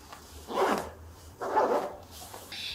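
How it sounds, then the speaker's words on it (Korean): Two quick zipping strokes of a two-way zipper on a short padded down jacket, close and soft, with a faint rustle of fabric after. "요거 요거 지퍼도 아주 요즘 트렌디하다는 요 투웨이 지퍼"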